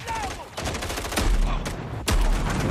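Shotgun blasts and gunfire in the video game Call of Duty: Modern Warfare II, a few loud booming shots over a continuous game soundscape.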